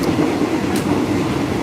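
A passenger train in Thailand running toward Bangkok gives a loud, steady rumble of wheels and carriage noise heard from on board, continuous and close, with no talk.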